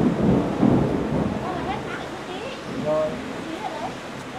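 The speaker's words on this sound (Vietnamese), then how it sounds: "mưa to quá" Heavy rain pours steadily with low rumbles of thunder beneath it, close and broadband, while people talk over the downpour.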